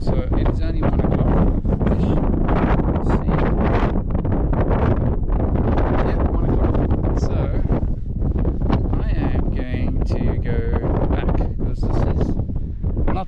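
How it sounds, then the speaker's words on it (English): Strong desert wind buffeting the microphone in sandy open terrain, a loud, constant roaring rumble with gusty bursts that never lets up, dominating everything else. "It is super windy, as you can hear"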